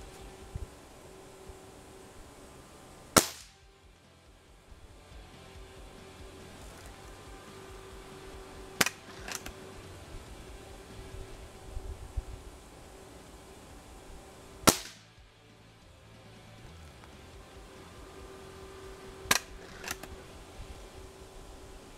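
A Ruger Air Magnum .22 air rifle fires four sharp, loud, isolated shots spread several seconds apart over a quiet background, each followed by a brief mechanical rattle.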